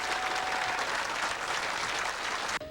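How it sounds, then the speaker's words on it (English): Steady applause from an audience greeting a bass fishing tournament champion at the Lake Seminole weigh-in, dense and continuous, cutting off abruptly near the end. "Folks, a round of applause."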